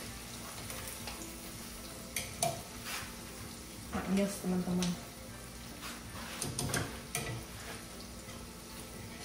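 Gluten-free squid rings fry in fresh oil with a soft, steady sizzle. Utensils stir and scrape against the pan in several short bursts, and a voice speaks briefly in the middle.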